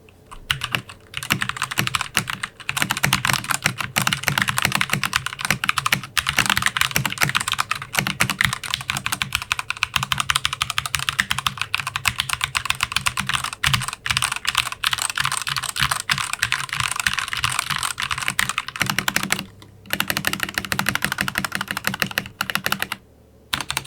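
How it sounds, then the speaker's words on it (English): Fast, continuous typing on a BlitzWolf mechanical keyboard with Gateron switches, close and loud, with crisp clacking keystrokes and a couple of brief pauses. "let me just show you guys what this sounds like with me typing"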